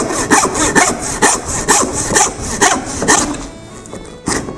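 Cutting through lamb carcass bone during home butchering: about nine rhythmic rasping strokes, close and loud, each a short grinding rub repeating roughly twice a second.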